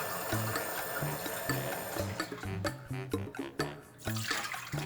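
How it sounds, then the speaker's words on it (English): Water is poured over four chicken thighs in a pot for Cuban-style chicken and rice: a splashing, gurgling stream that rises and breaks up, with music playing underneath. "now I'm gonna add water, just enough to cover it."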